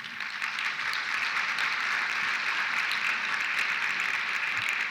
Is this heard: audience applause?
yes